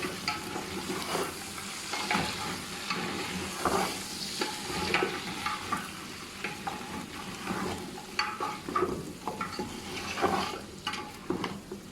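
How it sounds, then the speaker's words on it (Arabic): Lamb meat with vegetables and spices sizzles steadily in a pot, with irregular scraping and clinking as it is stirred, heard close with no voices. "هنا بقينا نحمس بالخضروات ويا اللحم حتى تاخذ من نكهة اللحم الخضروات والبهارات أيضا"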